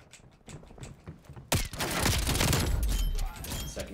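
Video-game gunfire in Call of Duty Black Ops Cold War: faint clicks and rustle give way to a sudden loud burst of rapid shots and rumbling blasts that continue densely to the end.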